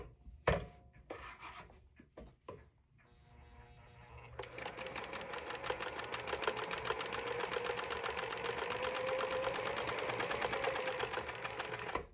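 An old Pfaff sewing machine starts after a few clunks and handling knocks, then runs in a fast, steady mechanical whir with a rapid rhythmic stitching clatter, close and moderately loud.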